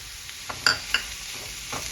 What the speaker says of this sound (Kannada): ನೆಕ್ಸ್ಟ್ ಇವಾಗ ಪನ್ನೀರ್ ಹಾಕೋತಾ ಇದ್ದೀನಿ.